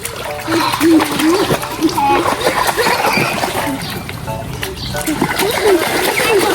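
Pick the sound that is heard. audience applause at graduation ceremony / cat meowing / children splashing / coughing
children splashing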